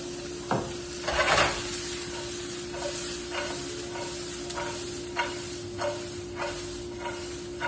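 Cabbage stir-fries in hot oil, a continuous quiet sizzle broken by a burst of louder frying and a series of spaced scraping stirs of the spatula, with a steady low hum underneath.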